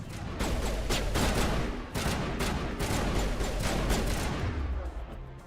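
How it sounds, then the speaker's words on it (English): Dense, continuous enemy gunfire in Mass Effect 1, a rapid unbroken barrage of shots with a brief dip partway through, loud and close throughout. "Who are they shooting at?"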